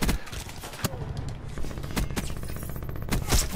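VMP submachine gun firing in Black Ops 4, sharp loud bursts of rapid shots punctuating the clip, with scattered gunfire and game ambience between the bursts.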